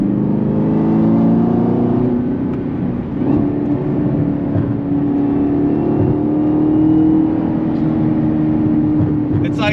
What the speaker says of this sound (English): And the sound of that V8 engine, I love it.